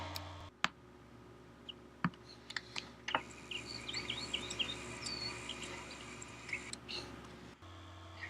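Bird chirps added as an outdoor sound layer during video editing, faint scattered tweets over a soft background hiss, mixed with a few sharp clicks.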